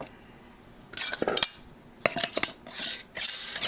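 A lid is screwed onto a half-gallon glass jar of freeze-dried eggs, giving a few close clinks and scraping twists in short bursts separated by brief pauses.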